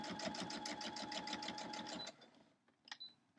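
A sewing machine stitching a quilt block runs in a fast, even stitch rhythm for about two seconds, then stops, followed by a few small clicks and handling noises.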